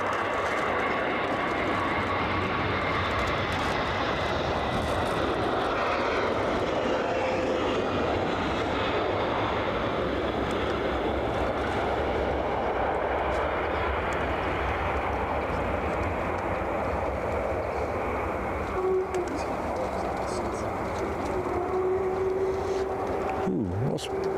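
A jet airliner roars steadily at Brussels Zaventem airport, a sustained loud engine rumble that holds throughout, with faint distant background noise.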